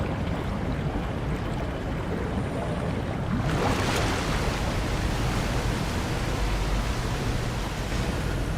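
A steady, dense wash of rushing water from a dark underwater horror video game fills the scene, with a surge of swirling, splashing turbulence partway through as the character surfaces, continuous and close.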